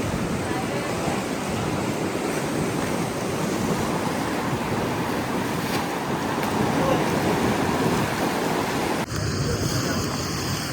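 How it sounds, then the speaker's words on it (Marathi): Ocean waves at the Harihareshwar coast in Konkan crash and wash in a loud, continuous roar, buffeted by wind noise on the microphone. "लाटा बघताय."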